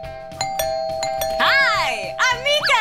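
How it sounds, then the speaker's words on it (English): A doorbell chimes several times in a children's musical show, with clear ringing tones at a steady pace, followed by lively singing and cheerful voices. "It sounded like a doorbell. Oh, look, there's a doorbell."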